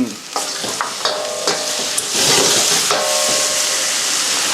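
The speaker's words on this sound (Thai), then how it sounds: "ส่วนที่เป็นเศษลงไปนะครับ เล็กน้อยก่อน เพื่อผัดให้มันมีกลิ่นหอมนะครับ ช่วงนี้เนี่ยต้องใช้ไฟแรงเลยนะฮะ" Shiitake mushrooms stir-fried over high heat in a wok, a loud steady sizzle with repeated scraping and clacking strokes of the spatula, no voices.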